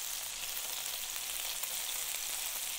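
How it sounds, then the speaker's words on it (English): Meatballs searing in hot oil in a pan give off a steady, close, even sizzle that runs without a break and with no talk over it. "Now that I've rolled the meatballs and they're starting to sear on the other side"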